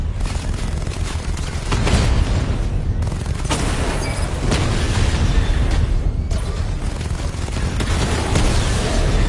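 An enemy drone is destroyed in a Batman video game, producing a dense, loud burst of explosive noise with repeated booming crackles. The sound stays continuous and harsh throughout, with several sharper bursts in the mix.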